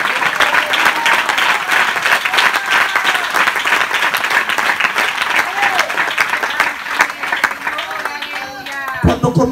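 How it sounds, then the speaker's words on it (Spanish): Church congregation clapping hands in praise during a Spanish-language worship service, a loud, continuous wash of clapping with voices shouting and singing underneath, ending in a few sharper claps. "dale más fuerte palmas a Jehová de los ejércitos"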